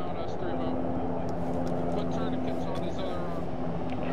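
A video game helicopter comes in to land, its engine and rotors making a steady, close droning rumble with a constant hum, while voices talk over it.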